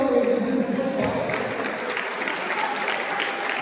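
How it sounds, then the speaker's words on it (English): Students at a school interclass quiz break into applause, a brief burst of many clapping hands over crowd noise that gradually softens. "Round of applause for it."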